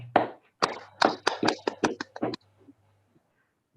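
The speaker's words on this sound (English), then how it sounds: "Let's give him a huge round of applause." A small group at a club meeting gives a short round of clapping, about a dozen separate, close claps in an uneven burst that stops after two seconds, followed by near silence.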